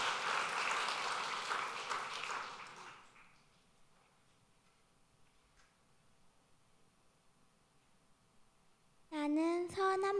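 Congregation applauding at a church ordination service after a scripture reading, a few seconds of dense clapping that dies out into near silence, followed by a voice near the end.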